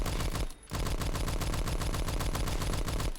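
Rapid automatic SMG fire in the Roblox game Phantom Forces, a loud continuous stream of close shots with one brief pause near the start, no talking.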